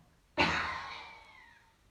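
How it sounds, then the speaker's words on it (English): A single sharp, forceful deliberate cough during a breathing exercise bursts out close by, then trails off into a breathy fade over about a second and a half. "And cough."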